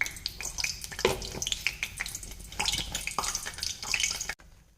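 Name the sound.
cumin seeds sizzling in hot oil in a pan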